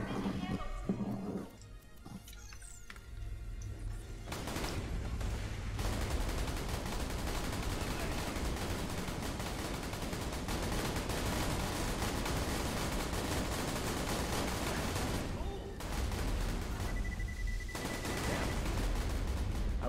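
Long Rider gun firing in the video game Borderlands 2: rapid, steady volleys of gunfire run almost the whole way through, loud and dense, while voices talk over the shooting.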